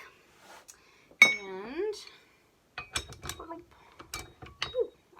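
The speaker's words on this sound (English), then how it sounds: "So now you switch your attachments." Metal stand mixer attachments being switched for sourdough bagel dough, sharp clinks and clanks of metal parts knocking together, close and intermittent, around a short spoken word.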